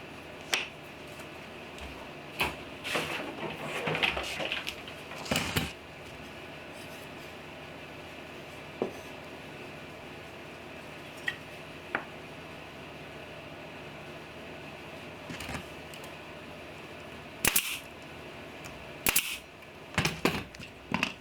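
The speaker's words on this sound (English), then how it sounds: "So I'll run a little bit of glue at the end and then shoot it in with brad nails." Sharp snaps of a brad nailer driving brad nails into glued wood pieces for a small DIY wood project, close and loud, several shots spaced apart, some in quick pairs, against a quiet room with no talk.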